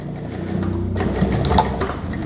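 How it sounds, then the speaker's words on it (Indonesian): A sewing machine stitching a trouser seam runs steadily up close, its needle chattering in a fast even rhythm with a faint motor whir and no voices. "jahit seperti ini lurus gitu ya, ditimpa lagi biar semakin akurat"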